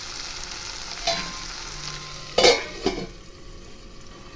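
Tomatoes sizzling in a pan for malai egg gravy, a steady low fry running throughout with a few sharp clinks and stirring knocks near the middle.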